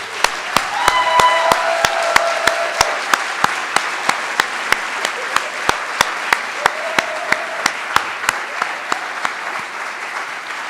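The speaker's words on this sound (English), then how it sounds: "Let's give a round of applause to the graduating class of 2023." An audience applauds the graduating class of 2023 at an end-of-year celebration, a steady crowd clapping that holds across the whole stretch, with a few sharper individual claps standing out from the dense wash.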